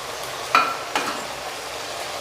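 Ground spices with salt, turmeric, chilli, coriander and cumin frying in a pan for a pomfret curry, a soft continuous sizzle broken by two sharp scrapes of a stirring spoon, close with no talk.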